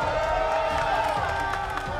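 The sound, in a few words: crowd cheering at a Halo Infinite LAN match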